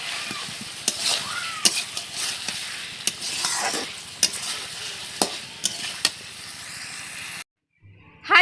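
Fried potatoes tumble into a simmering mutton curry and are stirred through, with a steady sizzle broken by sharp spoon knocks against the pot, before a brief moment of silence near the end.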